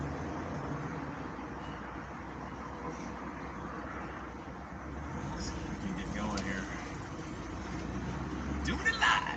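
A 1984 Volkswagen Vanagon with a new engine cruises on a freeway with its windows down, filling the cabin with steady road and wind roar while a person talks over it.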